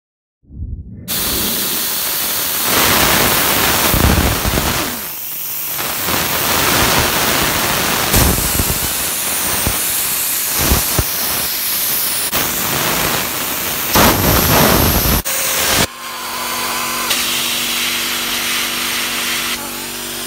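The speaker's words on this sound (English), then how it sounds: "That one goes nicely in the grinder. Try and remove some of this paint" An angle grinder fitted with new wire wheels strips paint, a loud, close, harsh whirring grind that rises and dips through several passes before cutting off and leaving a steadier hum.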